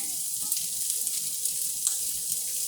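Onion sautéing in a hot pan gives a steady, close sizzle with a broad hiss and a few small crackles, heard alone without talk.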